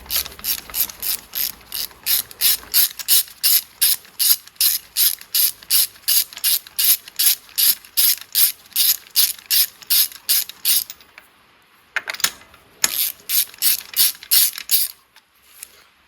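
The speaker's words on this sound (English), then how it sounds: "I'm just going to put it on a longer extension with a 3/8 ratchet, and I'm just going to stick it down there and take these spark plugs out." A 3/8 ratchet on a long extension clicks steadily while loosening spark plugs on a Citroen C1, about two dozen sharp, even ratchet strokes in a row, a brief pause, then a few more clicks, close and loud with no talking.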